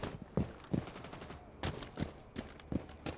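Gunshots in the tactical shooter Rainbow Six Siege: a string of sharp, fairly quiet reports at irregular intervals, some in quick pairs, over faint background game noise.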